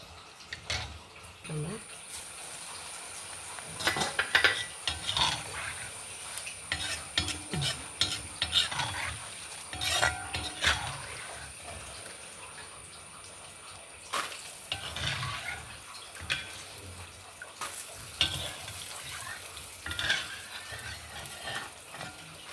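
Beaten rice (poha) is stirred and fried in oil for a crispy South Indian mixture. Repeated close scraping strokes run over a soft sizzle while a person talks throughout.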